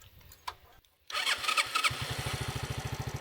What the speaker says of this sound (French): On a essayé de refaire démarrer la moto.